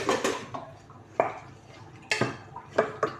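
Spoon scraping and clinking against a metal pot while baby food for an eight-month-old is stirred, several sharp scrapes and taps spaced irregularly, close and clear with no talking.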